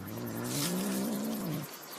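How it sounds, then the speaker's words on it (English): A pine marten cries in distress while caught on a wire, staged as a radio drama scene: a continuous wavering, moaning cat-like wail, close and fairly loud, sustained for well over a second before breaking off. "It is a pine marten. And look, it's got caught on the wire."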